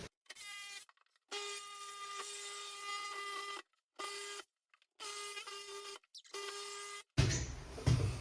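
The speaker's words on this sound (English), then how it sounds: "I've just made a quick cut with the Sawzall over and up" A Sawzall reciprocating saw cuts into a ceiling in several bursts of high, buzzing motor whine separated by short silences, ending in a rough clatter of debris.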